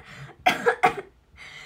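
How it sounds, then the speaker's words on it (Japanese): Two sharp coughs in quick succession from a woman on a livestream, close and fairly loud, framed by soft breathy sounds before and after. "面白くて咳出ちゃった"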